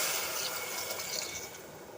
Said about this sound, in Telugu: నేను ఇందులో వాటర్ యాడ్ చేస్తాను.